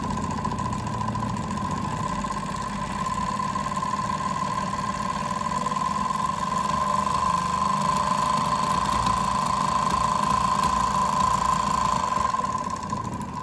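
Maimin Varispeed cloth knife motor running steadily with a constant whine and rough mechanical rattle, fairly loud and close, sustained throughout without a break.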